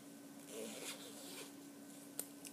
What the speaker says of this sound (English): and then I can close the zipper.